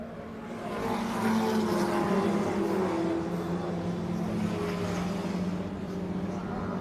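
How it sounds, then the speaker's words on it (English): Historic racing cars thunder across the finish line at Donington circuit, a dense, continuous engine roar that swells and holds steady as the pack passes close by. "Here they come, a plethora of historic cars thumping over the line at Donnington."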